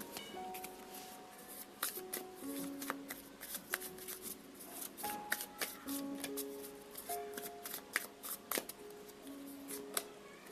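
Tarot cards are shuffled and drawn by hand in quick, crisp bursts of riffling and snapping, close and fairly quiet, with soft tonal chimes ringing in the background.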